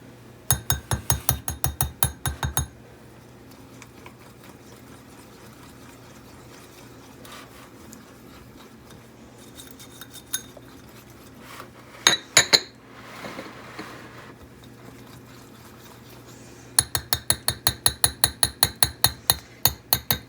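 A whisk clatters rapidly against a bowl while chia pudding is mixed, close rhythmic clinking bursts at the start and end with a quieter stretch of faint scraping and handling in between.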